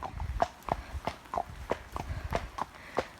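Horse hooves clip-clop at a steady walking rhythm on an autumn hack, about a dozen crisp, evenly spaced close strikes with faint rustling beneath.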